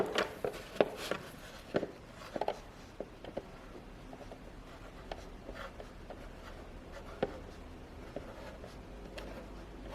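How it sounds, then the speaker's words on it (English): A pen or marker writes a label on a plastic milk jug used for winter sowing seeds: faint, close scratching strokes in irregular bursts with soft taps on the plastic, and no talking. "what I'm going to do is just write on here and then cover it with tape"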